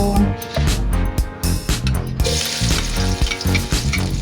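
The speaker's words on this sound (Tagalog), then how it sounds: "magigisa na tayo" Garlic sautéing in a pan for a pancit lad-dit soup, a loud crackling sizzle with clattering stirs and scrapes that swells partway through.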